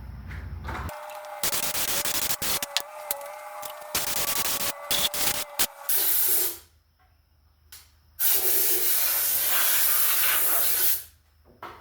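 Aerosol cleaner sprays onto an old brake in long, close, loud hissing blasts. Several choppy bursts come first, then a pause and one more sustained spray.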